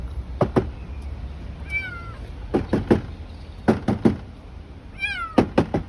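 A small kitten trapped in a car engine gives several short, high meows, partly muffled from inside. Sharp knocks and thumps on the car body are mixed in, and there is no talking.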